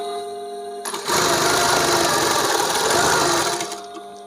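Sewing machine stitching a men's shirt pocket, a steady continuous whir that starts abruptly near the start, runs loud for a few seconds, then winds down near the end.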